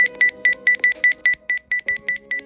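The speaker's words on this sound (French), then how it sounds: "Ça veut dire que ça va biper beaucoup plus fort en fait." Rapid electronic beeps from a video game alert, about a dozen evenly spaced short tones in a quick steady rhythm, clear and prominent with faint background game sounds.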